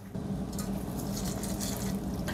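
Water pours steadily into a cooking pot holding a jarred pork and rice meal, making a constant splashing rush that stays at one level for the whole clip, close up and with no one speaking.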